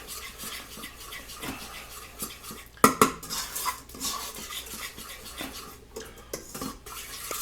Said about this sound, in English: we're going to add our sugar, stirring it in